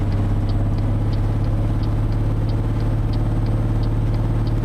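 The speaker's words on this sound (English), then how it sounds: "it sounds like the engine's about to blow up" A farm vehicle engine in Farming Simulator drones loud and steady under load, a constant low rumble with faint, regular ticking layered over it.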